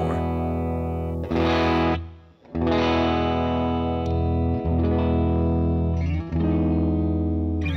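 An electric guitar, a V-shaped model, played through a HeadRush amp modeler with a distorted, gained-up tone, sustained chords ringing with brief breaks between strums, loud and close with no talk.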